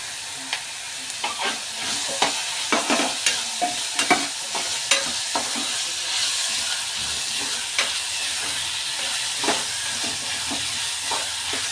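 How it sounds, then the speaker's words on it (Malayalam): Garlic, ginger and curry leaves sizzle in a hot pan with a steady frying hiss, broken by repeated scrape-and-stir clicks of a spoon. "അപ്പോൾ നന്നായിട്ടൊന്ന് ഫ്രൈ ആക്കി എടുക്കുകയാണ്"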